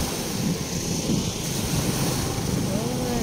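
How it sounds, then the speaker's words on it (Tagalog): Strong ocean waves crash and wash continuously against the seawall at Legazpi Boulevard, a dense loud surf roar mixed with wind gusting over the microphone. "Ang lakas ng alon."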